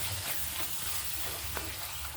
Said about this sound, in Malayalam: നല്ലോണം ഇളക്കാം കേട്ടോ.